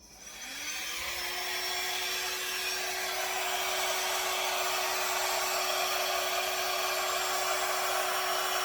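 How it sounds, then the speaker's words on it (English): Hair dryer switched on close by, its whir rising quickly to a loud, steady blowing drone with a constant motor whine, aimed at wet paint on a small 12x12 canvas. "Let's get some hair dryer going again"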